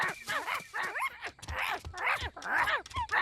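Several dogs in a cartoon whimper, yip and bark in quick, excited bursts, close up and lively, with rapid overlapping cries.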